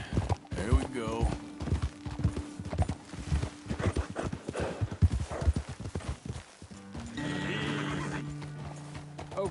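Horses clip-clopping at a trot in Red Dead Redemption 2, hooves beating in a steady close rhythm with whinnies and neighs breaking in, game music and snatches of voices underneath.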